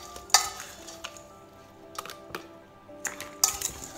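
A spoon stirs sugar into washed, stemmed cherries in a bowl, giving a few short scraping clinks at an uneven rhythm. The sounds are close and moderately loud, and no one speaks.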